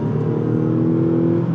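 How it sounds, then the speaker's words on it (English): A Mazda CX-90 plug-in hybrid with a small four-cylinder engine and electric assist accelerates, giving a steady, close, fairly loud engine drone and whir that holds evenly throughout. "the engine doesn't sound bad either for a little 4-cylinder with an electric"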